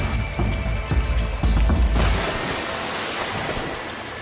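A strong river current rushes over slippery rocks on the riverbed in the Serengeti, a loud, continuous churning roar with heavy low thumps early on that ease into a steadier wash of water noise.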